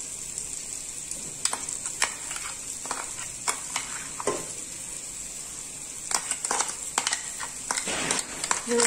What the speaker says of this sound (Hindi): अभी जो हमने अभी पेस्ट बनाई थी वो पेस्ट डालेंगे